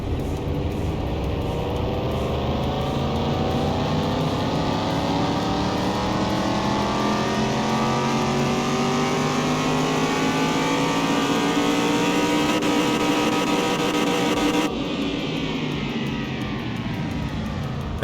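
Car engine in Car Mechanic Simulator 2021 revving on a dyno, a steady loud drone that climbs slowly in pitch for about fifteen seconds before cutting off abruptly, leaving a quieter idle.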